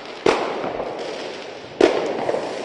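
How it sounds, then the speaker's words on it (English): Fireworks set off during a riot at a street protest in downtown Portland give two sharp, loud pops about a second and a half apart, each trailing into a rumbling echo with a wash of noise between them. "you can hear the fireworks popping off"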